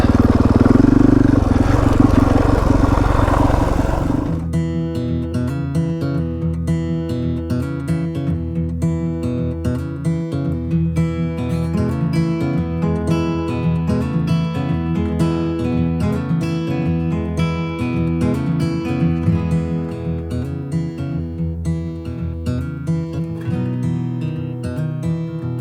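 A motorcycle engine drones steadily while riding along the top of a backcountry ridge on the Washington Backcountry Discovery Route, loud and close, with a burst of wind rush at the start before the even engine hum settles in.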